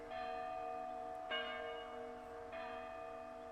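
A church bell rings in the video game Lost Odyssey, three clear resonant strikes about a second apart, each leaving a long humming decay, heard alone at a moderate distance.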